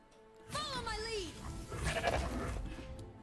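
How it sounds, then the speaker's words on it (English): A goat bleats in the Legends of Runeterra card game, a wavering cry of about a second followed by game sound effects and a brief spoken voice line. "Get a bunch of goats."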